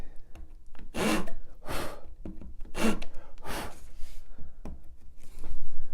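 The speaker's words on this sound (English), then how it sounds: "Make sure that you're sawing really accurately." A hand saw rasps through pallet wood in slow, steady back-and-forth strokes, each stroke a loud broadband burst with short pauses between, close by and alone.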